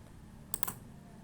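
A quick burst of typing on a computer keyboard, a few close, crisp key clicks clustered together over a quiet background.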